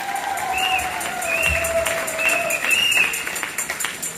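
A church congregation applauds to acclaim the Lord, with sustained crowd clapping and a few raised voices and cheers over it, moderately loud and continuous.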